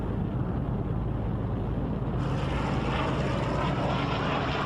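Allied propeller warplanes over Normandy during Operation Overlord in 1944 drone loudly and steadily overhead, a dense, continuous engine roar with no voices.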